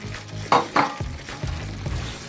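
A spoon stirs spicy sausage spaghetti sauce in a pan, with a couple of sharp scrapes against the metal over a soft, steady sizzle close by.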